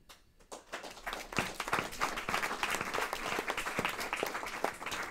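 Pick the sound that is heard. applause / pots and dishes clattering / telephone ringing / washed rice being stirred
applause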